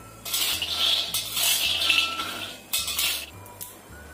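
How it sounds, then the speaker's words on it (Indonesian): Peanuts dry-roasting in a pan over low heat, stirred and turned: bursts of dry scraping and clinking rattle come in repeated strokes, fairly close, with a low steady hum beneath and no talk. "Kita goreng, kita bolak-balik supaya matangnya itu merata."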